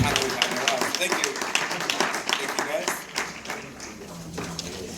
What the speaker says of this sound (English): And a round of applause for our audience